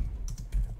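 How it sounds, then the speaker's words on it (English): Computer keyboard keys pressed while trying out a spreadsheet interface: a few quick, close plastic clicks in under a second, with no talking. "try out the arrow keys, the enter key, the tab key"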